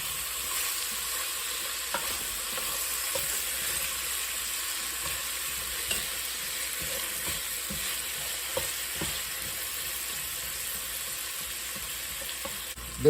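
Onions and garlic sautéing in a non-stick Dutch oven, a steady soft sizzle with occasional stirring clicks and scrapes, no voices.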